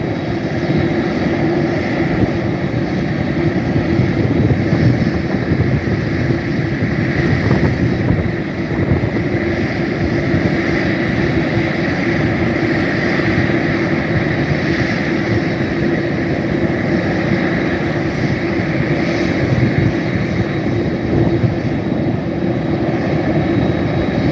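A McDonnell Douglas MD-11 jet airliner taxis and takes off at Reno, a steady, loud engine roar with a constant whine holding throughout, close and unbroken with no talk.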